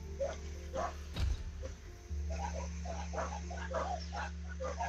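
Dogs in the Gris video game give a string of short yelping barks over a low, steady musical drone, with a brief muffled thump midway.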